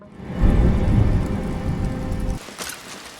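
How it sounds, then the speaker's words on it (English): Heavy rain with thunder: a loud, rolling rumble over dense rainfall builds quickly, holds for about two seconds, then cuts off, leaving only a quieter patter of rain. "heavy rain forces him to return home."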